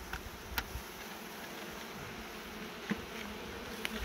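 Honeybees swarm around an open beehive frame in an apiary, a dense, continuous buzz close by with a few faint ticks and taps scattered through it and no talking.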